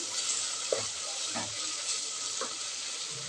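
A pan of bottle gourd and peanut-powder curry simmers with a steady soft sizzle, broken by a few faint stirring scrapes close by.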